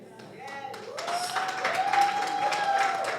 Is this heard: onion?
no